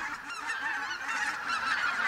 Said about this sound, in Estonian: Ümbruskonna põldudelt kostev hanede kisa muutus järjest lärmakamaks.